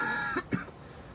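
Two short, close coughs in quick succession, one a bit stronger than the other, from a person clearing up morning congestion against a quiet room background.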